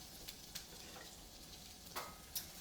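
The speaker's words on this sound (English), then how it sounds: "You can hear them sizzling a bit, which means that my oil is nice and hot." Steady sizzling of tomatoes frying in hot oil, a soft continuous hiss with a few sharper crackles and pops scattered through it.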